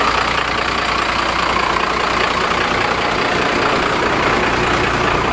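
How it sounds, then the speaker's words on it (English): A step van engine idles loudly and steadily up close, a constant dense rumble with no pauses or talk. "So gonna get the step van started and hit the road"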